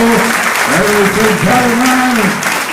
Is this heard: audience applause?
yes